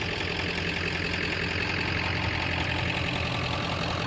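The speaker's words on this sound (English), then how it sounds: "our vehicle to pull with is a 1997 F350" A 1997 Ford F350 one-ton dually pickup with the 7.3 Power Stroke diesel idles steadily, a continuous low rumble with a faint knocking texture, heard up close with no talk.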